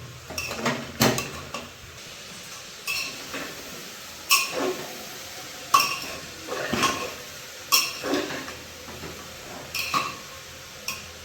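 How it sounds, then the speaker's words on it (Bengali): Mutton momo filling of minced mutton and cabbage being stirred in a pan, with a series of sharp metallic clinks and scrapes of a utensil against the pan, recurring roughly every second, close and fairly loud with no talking. "দেওয়ার পরে একটু ভালো করে নাড়াচাড়া দিয়ে দিতে হবে যাতে সব কিছু ভালোভাবে মিশে যায়"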